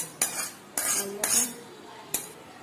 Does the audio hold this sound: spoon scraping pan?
yes